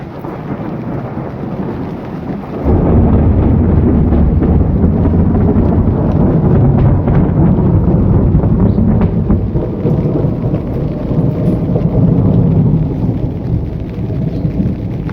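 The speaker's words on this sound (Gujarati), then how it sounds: "અને આ જો વીજળીના કડાકા પણ થાય છે જોડે જોડે।" Thunder booms over a farm during a fierce thunderstorm that has flattened the pigeon pea plants. A faint windy rumble bursts into loud, continuous rolling thunder with heavy rain noise that lasts to the end, with no voices.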